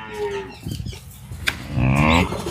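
A Holstein Friesian heifer on a dairy farm lets out one loud, close, drawn-out moo after a stretch of scuffling farmyard noise.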